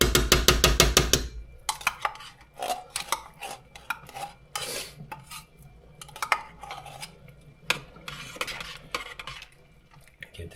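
A metal spoon scrapes ingredients out of a container into a pot of wild grouse soup with turnip and carrot, cooked at a Newfoundland cabin. A run of quick, close clinks opens into a series of uneven metallic scrapes and taps, with no talk.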